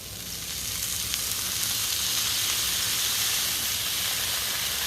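Steady, loud sizzling and hissing of water steaming on a hot griddle under a dome lid, continuous throughout with no talking.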